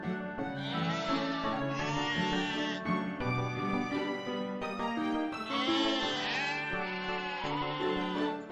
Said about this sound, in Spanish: Falta por separar las ovejas para devolvérselas a sus diferentes dueños.